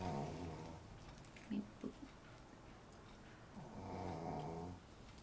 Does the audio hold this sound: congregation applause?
no